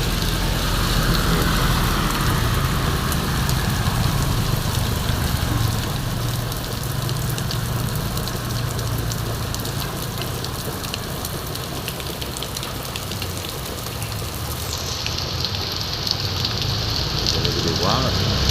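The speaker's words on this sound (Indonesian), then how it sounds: "Gede hujannya tuh, udah tuh." Heavy rain pours steadily during a flood, with vehicles and motorbikes turning back nearby; a dense, continuous roar of downpour fills the scene with low rumble underneath, constant and loud throughout.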